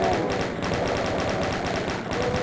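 Chain gun fire in Doom 2: a steady, rapid stream of shots hammering on without pause, dense and fairly loud over a gritty game backdrop.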